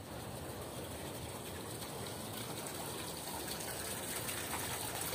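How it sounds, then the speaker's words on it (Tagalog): A solar-powered submersible water pump runs in a concrete catfish and tilapia pond, producing a steady, dense gushing rush of water that stays constant and fairly loud throughout, with no voices. "Ilagay tayo doon ng submersible water pump."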